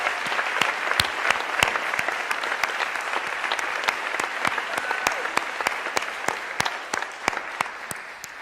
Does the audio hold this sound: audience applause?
yes